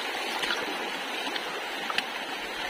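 A river stream flows steadily, a broad continuous rushing wash of water with a few faint splashes and gurgles, heard from nearby without talk.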